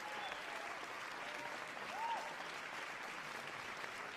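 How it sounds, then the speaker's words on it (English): Audience clapping at a live show, a faint, steady wash of distant applause with a brief whistle-like tone partway through. "All right, they're clapping it up for you, Rayvon."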